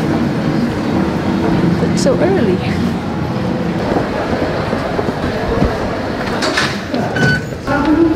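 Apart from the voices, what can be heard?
train arriving at station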